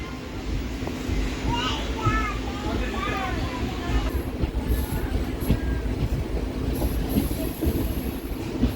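The Meenakshi Express passenger train rolls steadily past with continuous rumbling and rail noise, a few faint high squeals, and a voice speaking over it throughout.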